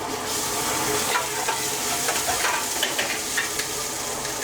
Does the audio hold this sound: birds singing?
no